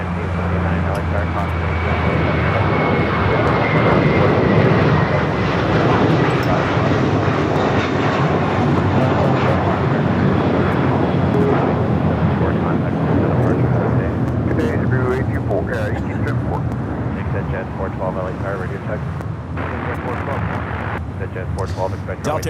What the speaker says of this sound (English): Delta Airlines Flight 39, the flight heading to Shanghai in an A350-900, now rolling down to 25 right